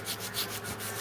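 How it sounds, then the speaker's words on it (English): Abrasive sanding on an engine cylinder liner, a steady close scraping rub with faint rhythmic strokes, alone with no talk. "It doesn't take much sanding to really remove some material."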